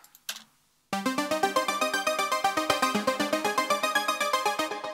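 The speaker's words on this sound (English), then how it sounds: "This arpeggio consists actually of two synths. One is the Alpha Juno 1" A bright Roland Alpha Juno 1 synth arpeggio starts after a brief pause and runs in fast, even steps, with punchy chord hits giving a bouncy, rhythmic pulse.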